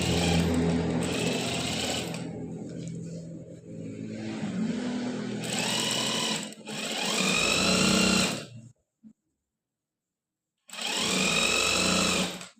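Sewing machine stitching the curved hem of a men's kameez, running in loud steady bursts with short pauses and a clear stop near the end before one final stretch of stitching.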